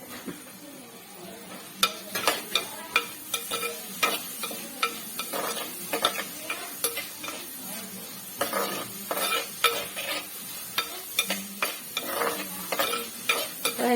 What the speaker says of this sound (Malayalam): നല്ലോണം ഒന്ന് വഴന്ന് വരട്ടെ